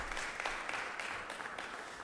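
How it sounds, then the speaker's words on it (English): A round of applause fills the Senate chamber, soft and distant, with a steady wash of clapping throughout. "let's give him a round of applause for that."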